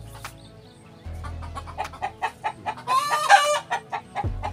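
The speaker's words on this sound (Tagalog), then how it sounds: "lumabas na yung mga manok" Chickens clucking in a series of short, rhythmic calls at close range, with a louder burst of squawking near the middle, heard on a farm with dry, cracked ground.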